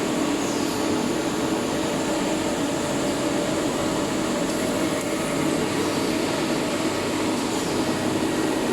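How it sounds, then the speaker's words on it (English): A production machine milling a titanium dental abutment, giving a steady dense whirring hiss with constant machining noise that stays loud and unchanging throughout. "The machine is working to produce the titanium abutment."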